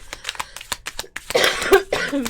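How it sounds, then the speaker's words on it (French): A burst of harsh coughing near the end, loud and close, following a series of short rough breathy sounds. "il va falloir se contenter de ma vilaine toux"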